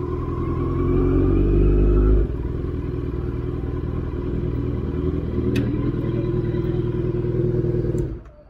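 A Kawasaki Z900 motorcycle engine running close by as the bike is maneuvered into a parking spot, a loud rumble that drops after a quick rev and then cuts off at the end.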